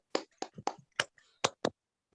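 A few sharp, separate hand claps sound in quick succession during an online primary class, close and dry with silence after them, as if from only one or two participants.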